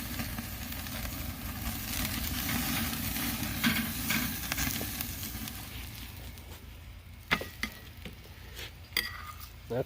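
Ribeye steak sears on an Oklahoma Joe's Highland grill, a steady close sizzle and crackle that fades into sharp clicks and clanks near the end as the meat is flipped, with no talking.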